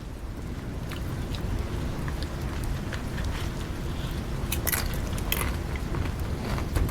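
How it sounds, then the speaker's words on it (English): Crunching bites into a crunchy and soft taco, close to the microphone, with scattered sharp crackles over a steady low background rumble and no talking. "So you can really hear the crunching through the microphone."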